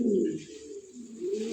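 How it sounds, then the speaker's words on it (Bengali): Pigeons at a Bangladeshi pigeon farm coo low and soft nearby, two rolling coos separated by a brief lull, heard alone. "সর্বোচ্চ কোয়ালিটির কবুতর।"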